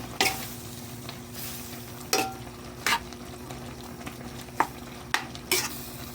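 Winged beans are stirred in a cooking pan over a soft steady sizzle, with several sharp scraping and clinking strokes of a utensil against the pan at irregular intervals, close by.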